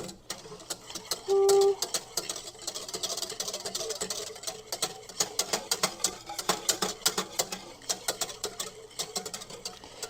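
Whisk scraping and clicking in a pan of cream puff dough over medium heat, a quick irregular patter of metallic taps close by, fairly quiet, with a short tone near the start.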